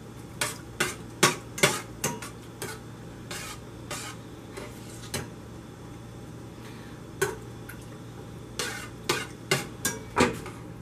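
Milk and cheese melting in a pot while a utensil stirs, heard as a string of sharp metallic taps and scrapes against the pot over a low steady hum, irregular and close.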